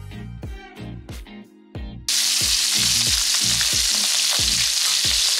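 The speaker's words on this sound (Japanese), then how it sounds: "ソーセージを炒めるときは体油で炒めます" Sausages frying in oil in a pan: a loud, dense sizzle bursts in partway through and continues steadily, with rhythmic music playing throughout.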